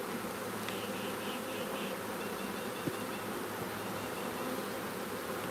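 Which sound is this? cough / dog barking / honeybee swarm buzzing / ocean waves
honeybee swarm buzzing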